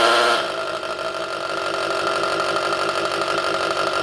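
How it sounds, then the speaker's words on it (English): A handheld noisemaker spun by a variable-speed 12-volt drill motor gives a steady, buzzy chainsaw-like idle. It starts with a brief louder burst, then settles into an even, continuous rattle with no talking. "Doesn't that sound like a chainsaw and idle?"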